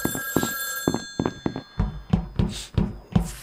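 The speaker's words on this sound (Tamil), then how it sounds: "ஃபோன் அடிக்கி" A telephone rings inside a video game, repeated bursts of bright ringing mixed with thuds and clunks from the game, fairly loud and close, with no voices.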